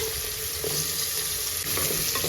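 Whole spices and spice leaves frying in a pan with onion make a constant hissing sizzle, punctuated by a few stirring knocks and scrapes close by.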